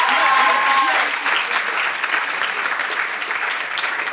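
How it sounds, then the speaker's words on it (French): Audience in a hall applauds a young prize winner at a high-school debate contest, steady continuous clapping throughout, with a brief voice or tone at the very start. "On peut l'applaudir à nouveau."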